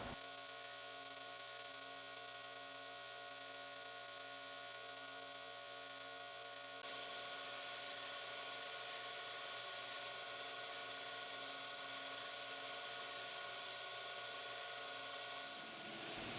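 Wooden bottle stopper being sanded while spinning on a lathe: a constant motor whine with a faint rubbing hiss that grows slightly louder partway through.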